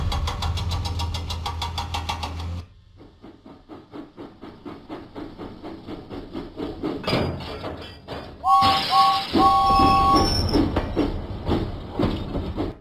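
James the engine runs along the tracks in a Thomas and Friends video game, with rhythmic chugging puffs building in intensity, clanking rail sounds and a bright whistle-like tone partway through, over game music.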